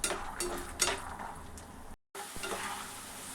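Peanuts frying in a pan for tamarind rice, a soft continuous sizzle with light stirring clicks and scrapes close by, briefly cutting out before resuming.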